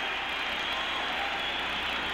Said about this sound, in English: the tremendous ovation here at a capacity crowd at the Boston Garden continues for young number four, 21-year-old Bobby Orr